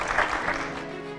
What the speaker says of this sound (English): Please give a round of applause to our excellent panelists here.